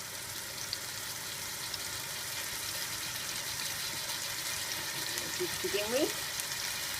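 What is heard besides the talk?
meat browning in hot olive oil in a pan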